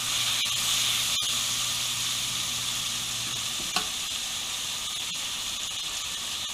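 A steak filet sears in a pan that is not quite hot enough, giving a steady, close sizzling hiss that runs throughout, with a brief clink partway through.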